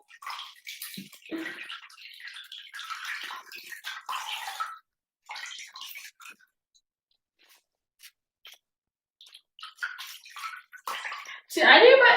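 Water sloshes and trickles in bursts as a washcloth is rinsed and swished in a basin of water, with gaps of near silence between them and a louder splash at the end; someone talks at times.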